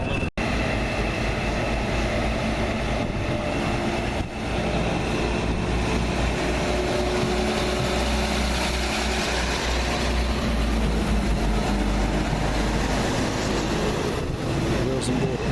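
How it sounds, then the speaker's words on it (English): A railtour locomotive engine rumbles steadily and loudly throughout, a dense low drone with a brief clunk near the start and speech over it. "So this is the engine that will take us back to Scotland."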